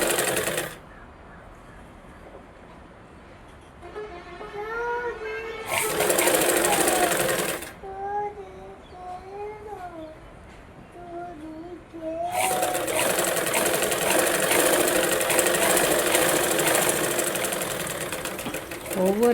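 A sewing machine stitches a blouse lining in loud, steady bursts with pauses between runs, while someone talks in Tamil during the quiet gaps.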